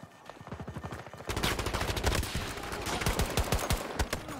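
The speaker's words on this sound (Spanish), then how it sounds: "Vale, disparos de ahí enfrente." Rapid automatic gunfire in Battlefield 2042 crackles in fast bursts, then grows louder and denser as several weapons fire at once in a sustained volley.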